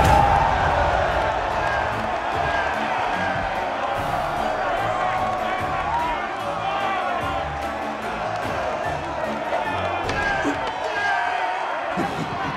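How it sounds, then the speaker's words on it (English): Crowd cheering in adulation after a fight: a dense, continuous wall of cheering and shouting voices stays loud throughout, with individual speech mixed in. "Revel in crowd's adulation."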